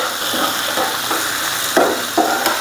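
Jackfruit seeds, yardlong beans and potato fry in a pan with a steady sizzle, while a few sharp scraping knocks mark the stirring.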